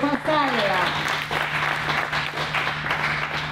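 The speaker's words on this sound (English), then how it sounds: "A big round of applause for Pascal." An audience at the final press conference of the Pau 2025 CCI5* eventing competition applauds organizer Pascal with a steady wash of clapping, and a voice speaks briefly over the start.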